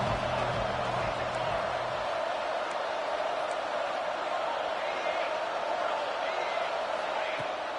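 A stadium crowd roars in a college football video game on third down, a loud, steady wash of noise that fills the whole stretch without letup.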